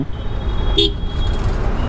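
A single short car horn toot sounds once over steady traffic rumble, fairly close and brief.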